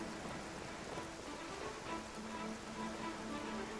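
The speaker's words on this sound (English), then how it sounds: "Oh, it's raining out here." Steady rain falls in the open-world video game Genshin Impact, an even hiss of drops with no clear speech and a faint tonal game background.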